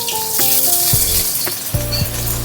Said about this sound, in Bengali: রসুনটাকে ভেজে নিই হালকা করে।